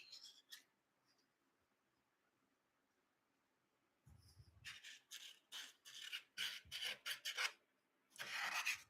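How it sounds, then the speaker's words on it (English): Hand sanding of a wooden piece. After a quiet start, a burst of close, rhythmic rasping strokes repeats steadily, with brief pauses between passes. "I gotta get this sanded and get a finish on it"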